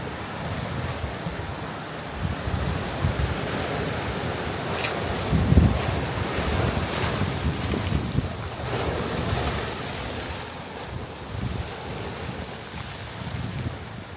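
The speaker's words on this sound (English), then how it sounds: "see the water dribbling in between these two giant rocky outcroppings" Ocean waves wash and trickle between two large rocky outcroppings along the Dallas Road waterfront, a continuous surf wash with gusting wind noise on the microphone and one brief louder splash midway, with no voices.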